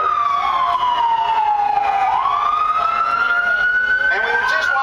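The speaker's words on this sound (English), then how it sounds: "I won't yell over the sirens." Emergency vehicle siren wailing loud and close, one long tone sweeping down, then climbing back up, sounding continuously with no break.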